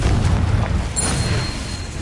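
A Confringo blast spell in Hogwarts Legacy: a deep, rumbling boom with a low roar that holds steady for about two seconds, loud and close.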